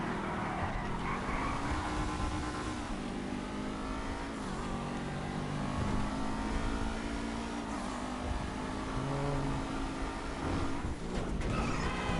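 Seven-70 supercar engine in GTA 5 racing steadily, a continuous high revving drone with shifting pitch and slight rises and dips, loud and sustained throughout.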